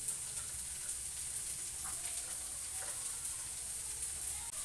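Garlic hitting hot oil in a tempering pan, giving a steady, even sizzle that holds throughout with a few faint clicks, and no voices.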